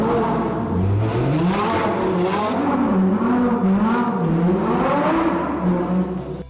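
A car drifts in circles, its engine note swooping up and down in repeated waves as it revs around the loop, loud and close with a gritty tire-and-dust roar underneath.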